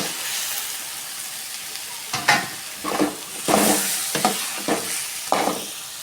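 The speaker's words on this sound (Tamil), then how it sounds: "எண்ணெய் பிரிஞ்சு வச்சு இப்போ கத்திரிக்காய் போட்டுக்கலாம்" Brinjal pieces stirred into oily, separated masala for a tamarind curry, a continuous sizzle broken by several scraping stirs of a spatula against the pan.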